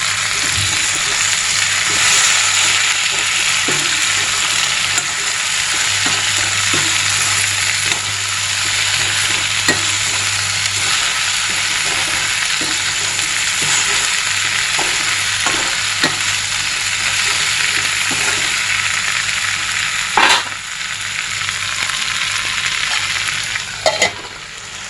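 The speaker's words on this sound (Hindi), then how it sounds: "तो अब हमने इसमें टमाटर भी मिला दिया है, और इसको हम बहुत ही आराम से चला लेंगे ताकि भिंडी फूटे नहीं" Okra, potato and tomato sabzi sizzles steadily in a pan while it is stirred gently, with soft scraping strokes repeating over a continuous frying hiss from start to end.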